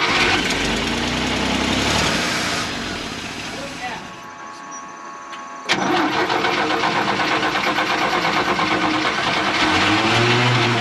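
A 1968 GMC C4500 truck engine cranks loudly and fails to start, a long grinding churn that stops briefly then resumes, close and harsh, with voices faint beneath.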